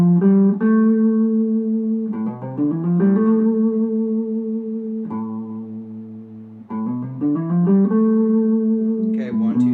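Natural minor scale on a keyboard, single notes stepping up and down in an even run, with sustained tones and a short held pause midway, moderately loud and close with no talking.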